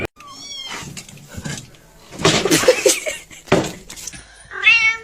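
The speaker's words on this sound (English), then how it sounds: "Finally found something to keep my cat off the counter." A cat meows several times, from short mews to a drawn-out, wailing caterwaul, in bursts of varied loudness, with a few quieter stretches between calls.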